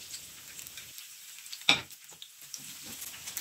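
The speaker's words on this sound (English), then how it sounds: "Just fry for 1 minute." Garlic and onion frying in hot vegetable oil give a steady, quiet sizzle with faint crackles, broken by one sharp nearby clink or tap around the middle, with no voices.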